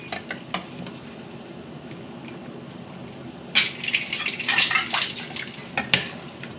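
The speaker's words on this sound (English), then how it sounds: "time to get the broccoli out of the boiling water and down in the ice cold water" Water splashes and sloshes in bursts as broccoli is moved from a pot of boiling water into ice water, with light clinks and drips around it.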